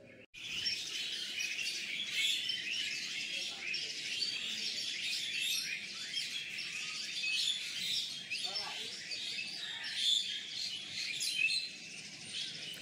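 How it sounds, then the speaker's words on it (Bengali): Many birds chirp and call together outdoors in the morning, dense overlapping high tweets that run continuously and fairly loud, with no talking over them. "আমি জাস্ট চুপ করেছিলাম, তোমাদের পাখির আওয়াজ শোনাচ্ছিলাম"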